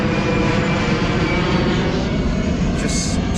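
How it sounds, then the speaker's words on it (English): An airplane passes overhead above a mall rooftop in Chiang Mai, Thailand, a loud, steady engine roar that fills the whole moment, heard outdoors with a faint background murmur. "Oh, it's a plane going past."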